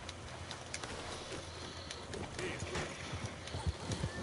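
Horse hooves clip-clop in Red Dead Redemption 2, a steady patter of footfalls close by, mixed with background game ambience and occasional bird calls, with a voice talking over it.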